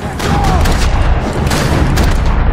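Loud, dense gunfire and booming blasts in Max Payne 3 roll continuously, with rapid shots layered over a constant roar.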